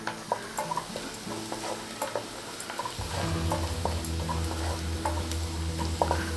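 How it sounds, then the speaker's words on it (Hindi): Mushrooms sauté in a pan until browned for a creamy mushroom soup: a soft sizzle with regular light taps and scrapes of a stirring spoon, the frying growing fuller and steadier about halfway through. "मशरूम्स को थोड़ा ब्राउन होने तक भुनेंगे।"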